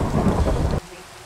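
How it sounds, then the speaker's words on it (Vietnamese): Heavy rain and thunder in Minecraft, a dense loud roar of rainfall that cuts off abruptly partway through, leaving only quiet hiss. "từ lúc mà chúng ta tới đây bây giờ trời chưa bao giờ ngừng mưa cả"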